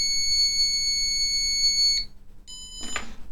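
An ATtiny85-based device gives a steady, loud electronic beep for about two seconds while its reset button is held, then a short second beep follows, with a brief noisy rustle at the end.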